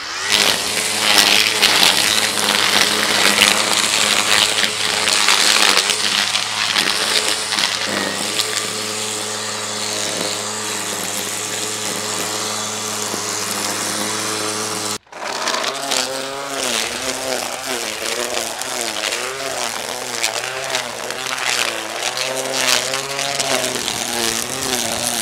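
A Ryobi 18V cordless line trimmer cuts through thick brush. Its motor whines loud and steady up close for the whole stretch, with one brief cut-out midway before it picks up again.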